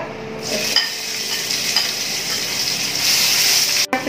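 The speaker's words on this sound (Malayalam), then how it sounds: "ചട്ടി ചൂടാൻ ഞാൻ ഉള്ളി ചതച്ച് വെച്ചിരിക്കുന്നത് ഇടാൻ പോവാണ് എണ്ണ ഒഴിച്ചിട്ടുണ്ട്" Crushed onions sizzle in hot oil in a pan, a steady bright frying hiss with faint scraping, then a sharp clatter near the end and no talk.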